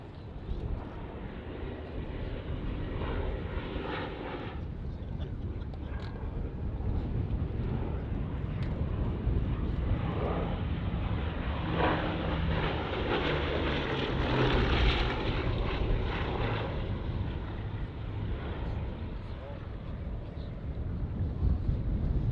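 A Bristol Blenheim piston-engined aircraft flying at a Battle of Britain airshow at Duxford, a steady propeller-engine drone that swells and fades as it passes, with wind noise on the microphone.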